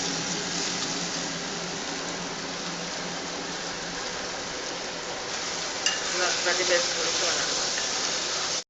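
Mutton kaima fries in a pan with a steady, moderately loud sizzle, stirred now and then, with a burst of scraping and clinks toward the end.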